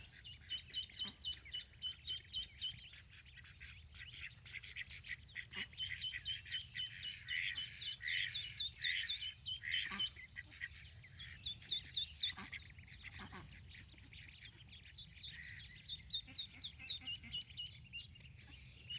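Ducklings in a garden give a busy, continuous chorus of high peeping and soft quacking calls, close by and fairly quiet, with no talking.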